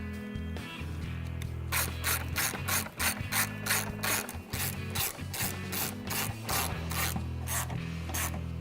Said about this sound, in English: So I always start all my bolts by hand and then take the ratchet.